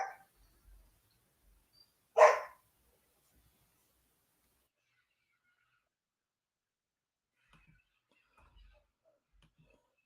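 A dog at home gives a single short bark after a brief faint sound, then mostly quiet room tone with a few tiny scattered noises.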